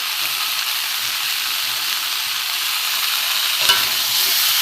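Vegetables and tender drumstick pods sizzle steadily while being stirred in a pan for a vegetarian dalna with ginger. A continuous close frying hiss runs throughout, with a brief scrape near the end and no talking.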